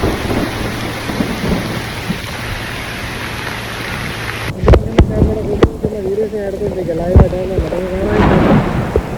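Heavy rain pours steadily while a loud thunderclap breaks in midway, followed by sharp crackling rumbles and a droning hum under the downpour.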